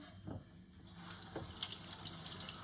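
Hot water runs and splashes into a sink as a toy is placed in it, starting as a faint trickle and turning into a steady, close rush of water that continues to the end.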